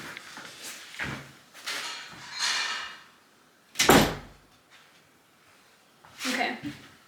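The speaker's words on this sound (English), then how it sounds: "I need to close this door." Indoors, a door is pushed shut with a sharp thud midway, surrounded by someone talking before and after.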